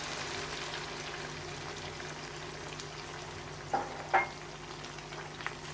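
Beef liver and peas frying in a pan after half a cup of milk is added, a soft continuous sizzle with two brief louder bubbling bursts near the end, fairly quiet and without talk.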